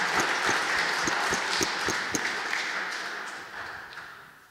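Audience applause at a youth physics tournament finals after a team's score is announced, a thin scattering of claps with distinct individual hand strikes, moderately near and tapering off toward the end.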